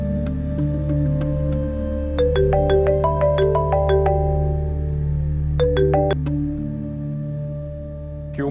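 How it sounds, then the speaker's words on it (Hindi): A mobile phone ringtone plays a melodic electronic tune in repeated rising phrases over a steady background hum, loud and close, with no voices. "सलमान फोन उठाओ प्लीज।"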